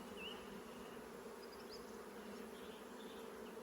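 Honey bees transferred from a nuc to a hive hum in a steady, dense buzz, a few individual insects whining past close by while the swarm drones on continuously.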